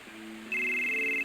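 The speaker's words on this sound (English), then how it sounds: "Oh, I'm getting a phone call." An electronic phone ringtone in the Final Fantasy VII video game starts abruptly and holds a steady, clear electronic tone above soft background hum, with no talking.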